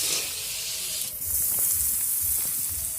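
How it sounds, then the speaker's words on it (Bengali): Fish fries in plenty of oil in a wok, giving a steady, fairly loud sizzle and hiss that carries on without a break, with low bubbling underneath. "দেখো মাছ ভাজছে কেমনভাবে"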